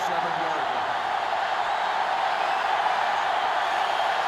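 Constant roar of a sellout football stadium crowd at a Clemson vs Ole Miss college game, a dense, loud, unbroken wall of noise.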